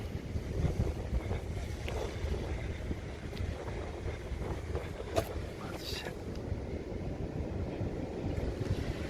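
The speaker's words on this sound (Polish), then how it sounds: "Można zobaczyć jak ocean rozbija się o brzeg." Ocean waves break steadily against a volcanic lava-rock shore in the Azores, a continuous loud roar of surf mixed with heavy wind buffeting the microphone, with no voices.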